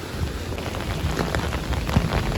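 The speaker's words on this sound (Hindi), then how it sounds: "खूबसूरत बारिश हो रही है।" Steady heavy rain pours down in Bahria Town, Karachi, a dense continuous hiss of drops with occasional louder splashes and low rumbling underneath, no voices.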